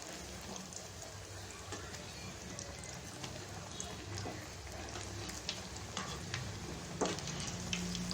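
Banana flower vadas fry in hot oil, a steady crackling sizzle that holds evenly throughout, quiet and close, with a voice speaking faintly over it.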